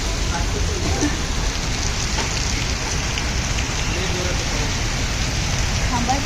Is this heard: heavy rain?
yes